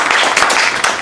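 Audience applause at the closing session of a conference on the Olympic and Paralympic Games: a short, dense, steady burst of many hands clapping at once, loud and close, with no break.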